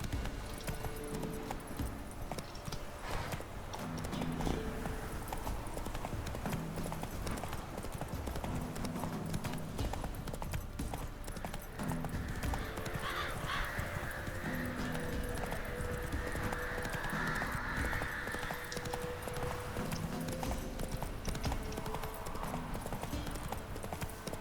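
Roach, the horse in The Witcher 3, galloping: a steady, rhythmic clip-clop of hooves continuing throughout over a low ambient game soundscape.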